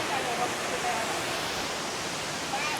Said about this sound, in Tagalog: Yan, ganda ng Hulugan Falls.